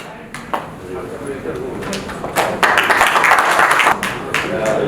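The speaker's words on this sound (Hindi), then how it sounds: "एक बार जोरदार तालियां हो जाए।" An audience at the Bhojpuri Industry Premier League Season 4 player auction bursts into clapping midway, building into fuller applause while someone speaks over it.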